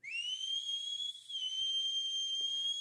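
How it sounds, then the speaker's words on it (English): A man puts two fingers in his mouth and blows a piercing, high-pitched whistle, held steadily for nearly three seconds with a brief dip partway through, loud and alone over faint background noise. "he puts 2 fingers in his mouth and does a high-pitched whistle"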